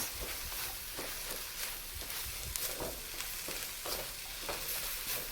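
Cabbage and mixed vegetables for mu shu chicken stir-fried in a pan, a continuous loud sizzle with rhythmic scraping and tossing strokes throughout, no voices.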